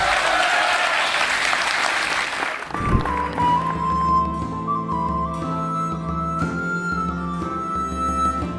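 A crowd at a Hindi poetry recital breaks into loud, full applause for a few seconds before music with a sustained melodic line takes over and carries on to the end.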